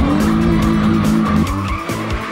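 A modified car drifts at full throttle, its engine roaring loudly and close with shifting revs while the tires squeal continuously over the whole stretch.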